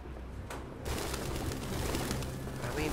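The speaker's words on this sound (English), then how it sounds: "Pigeons." Pigeons in Detroit: Become Human give soft, low cooing and rustling at close range, with a steady ambient hum and a faint flutter of wings partway through.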